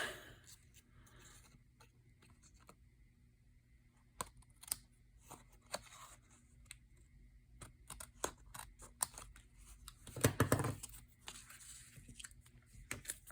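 Paper strips being trimmed for a plaid Christmas card, a steady run of small crisp snips and clicks with a louder burst of cutting near the end, close and quiet, no talking.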